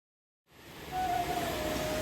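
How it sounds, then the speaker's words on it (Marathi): The Dudhani waterfall near Patur, Akola, runs small after little rain, and its steady rushing hiss begins abruptly and continues without a break. "हा आहे दुधानी वॉटरफॉल धबधबा ॲक्च्युली आता पाऊस नसल्यामुळे खूप छोटा आहे"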